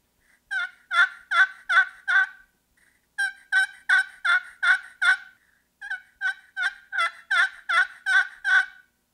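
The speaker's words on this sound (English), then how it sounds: "I'm just getting just a soft little yelp" Soft, short turkey yelps worked on a Quick Change box call with barely any paddle pressure, three close runs of five to seven evenly spaced notes separated by brief pauses, no voices.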